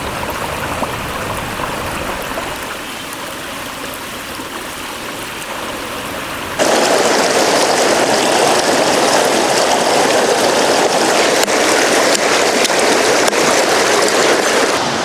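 Running water pouring steadily from a tap while fish is washed for a Telugu fish curry, a constant hiss that grows louder partway through as the flow increases.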